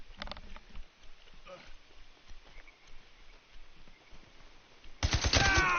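Gunfire in the video game Days Gone, with scattered faint shots and clatter early on and then a loud, dense burst of rapid fire near the end, close and sharp.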